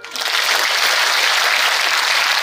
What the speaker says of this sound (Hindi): अब आप धन्यवाद देते हुए तालियां बजाओ